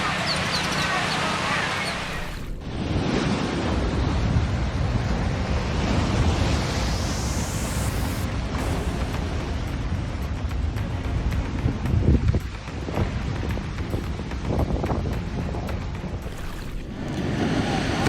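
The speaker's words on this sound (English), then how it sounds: "Powerful storm-driven waves kept crashing onto the shore, sending towering water columns dozens of feet high in Donostia." Powerful storm-driven waves crash onto the shore at Donostia, throwing up towering columns of water: a loud, continuous roar of surf mixed with heavy wind buffeting the microphone, swelling and surging across the whole stretch.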